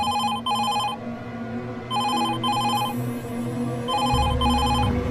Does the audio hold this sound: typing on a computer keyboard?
no